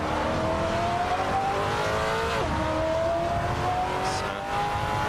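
A Maserati Quattroporte engine in the Assetto Corsa racing game at Donington, holding high revs down a straight with a steady rising drone, one quick dip at a gear change, and a brief faint tire chirp near the end.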